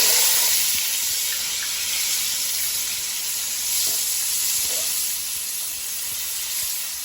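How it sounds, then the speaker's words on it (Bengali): Pulao rice frying in a pan with carrots and other vegetables, a steady close sizzle and hiss with a few faint stirring scrapes, no talking. "চালটা দিয়ে কিছুটা ভেজে নেওয়ার পরে"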